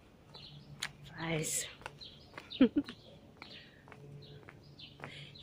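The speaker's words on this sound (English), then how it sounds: "You can hear the birds beautifully wherever I pass, like the trees and that." Birds chirp and tweet from trees along a walking route in Liverpool, faint and scattered over street noise, with someone speaking briefly and footsteps and passing sounds in the background.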